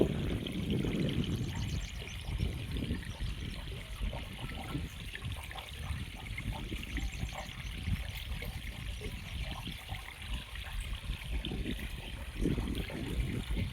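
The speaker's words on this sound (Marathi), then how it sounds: "खाली तडकार पाणी जातं आहे पूर्ण एकदम." Jeevamrut, an organic liquid fertiliser, drains steadily through a cloth filter on a banana farm, a continuous close trickle and splash of liquid running without pause.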